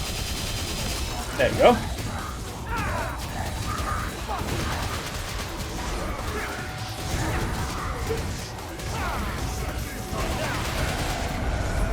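Ebony and Ivory pistols firing in Devil May Cry 5 as Dante on Dante Must Die difficulty, rapid gunfire bursts with mechanical clanks and impact crashes layered over game noise, someone speaking briefly.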